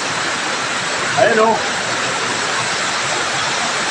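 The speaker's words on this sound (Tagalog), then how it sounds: "Sobrang lakas ng ulan." Heavy rain and floodwater reaching the doorway of a workplace, a steady loud roar of downpour and rushing water throughout, with a brief voice speaking over it partway through.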